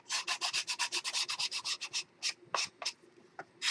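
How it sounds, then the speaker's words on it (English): Paper collage pages of a Christmas mini album are sanded by hand in quick, rhythmic back-and-forth strokes: a fast run of about fifteen close rasps, then a few slower, spaced scrapes. Nearby and steady, with no talking. "You don't have a lot of sanding on this."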